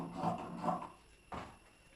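Scissors cutting through blouse fabric, giving two soft rasping snips close together followed by a sharper single cut, fairly quiet with no voices.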